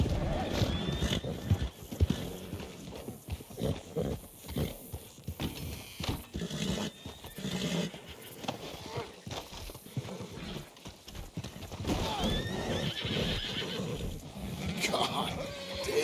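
A horse in Red Dead Redemption 2 whinnies and neighs loudly while its hooves clip-clop in bursts, with someone talking over and between the animal sounds.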